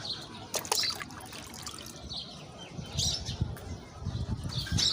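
Water is poured for pigeons in a rooftop flying loft, a faint trickling splash with soft rustles and brief wing flaps nearby, fairly quiet with no talking.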